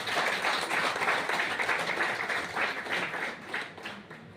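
Audience applause fills a gathering hall with dense, steady clapping from many hands that carries on throughout and eases slightly toward the end.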